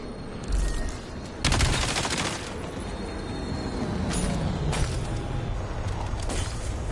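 Sustained automatic fire from a mini turret in the video game Black Ops 7, with a loud burst early on followed by continued rattling gunfire and scattered blasts in a busy battlefield mix.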